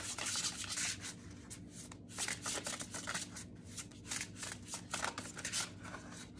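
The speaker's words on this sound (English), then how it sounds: "we are going to pull some Oracle. Oracle of the Seven Energies by Colette Baron Reed. These are beautiful cards" Oracle of the Seven Energies cards are shuffled by hand in quick bursts of crisp riffling and rubbing, close and fairly quiet, with brief pauses between runs.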